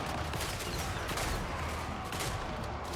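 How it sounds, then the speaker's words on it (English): Dwarf Drake guns in the Total War: Warhammer 3 video game fire in a dense, continuous roar of overlapping shots, loud and sustained the whole time with no talking. "that looks like some shots from our Drake guns now"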